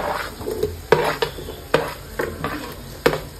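Sliced onions frying in a pan as green chillies go in, a spatula scraping and clanking against the metal in sharp irregular strokes over a low sizzle, with no one talking.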